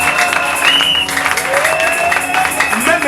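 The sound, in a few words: congregation applauding and acclaiming the Lord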